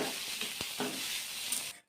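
Sliced carrots and finely chopped tomatoes frying in a pan, a close, steady sizzle with a few stirring clatters before it cuts off abruptly.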